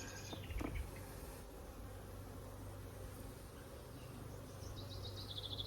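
Honey bees buzz around an opened mini plus hive during frame inspection, a faint, steady low drone with a few nearer insects passing close.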